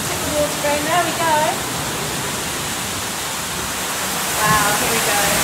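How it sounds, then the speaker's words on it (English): Water is tipped onto a roughly ten-ton water wheel at an oat mill, making a loud, continuous rushing splash like a small waterfall, with brief voices over it near the start and end. "Just tip the water in, there we go."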